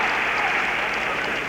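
Arena crowd roaring and cheering at a 1986 Goodwill Games boxing bout in Moscow, a steady dense wash of noise with scattered applause, loud and continuous throughout.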